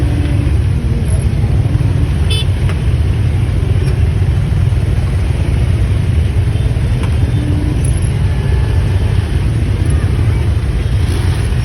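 Steady rush-hour road traffic of cars and motorbikes heading home after work, a continuous low engine rumble with wind buffeting the microphone throughout.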